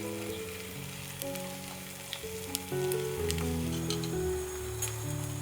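Beaten egg and chicken pieces in oil in a pan sizzle steadily and evenly close up, with light music playing underneath the frying and no talking.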